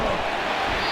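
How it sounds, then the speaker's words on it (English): Stadium crowd roaring at full throat inside a College Football 25 game during an Oregon vs Michigan matchup, a steady loud wash of noise with no breaks. "This crowd, full throat, splitting the eardrums"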